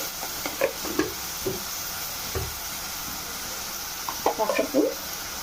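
Cashew, raw mango and garlic curry sizzles faintly in a pan, with a spoon scraping and stirring in short bursts, quiet and close.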